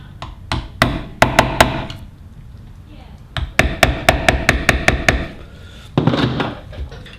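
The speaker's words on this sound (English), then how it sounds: "I just have to tap these center punch holes in." Sharp metallic hammer taps on a center punch come in quick clusters, several rapid strikes at a time with short pauses between the bursts, close and crisp, while marking holes for installing bass guitar pickups.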